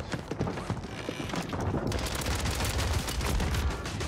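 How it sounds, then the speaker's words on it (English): Rapid gunfire in Warzone 3, a dense, continuous stream of close, loud shots with sharp repeated cracks over a busy in-game soundscape. "I'm getting stacked on by shotguns."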